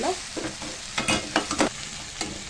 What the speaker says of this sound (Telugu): అవి ఆయిల్లో వేసేసాం. కొంచెం కలుపుకుందాం.